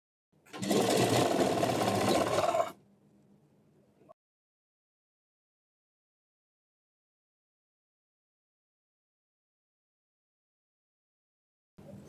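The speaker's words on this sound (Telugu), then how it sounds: "ఇప్పుడు డబుల్ స్టిచ్ కూడా వేసుకుందాము" A sewing machine double stitching a seam on a knee-length frock runs in one loud, steady burst of about two seconds, then drops to a low hum before stopping, followed by a long silence.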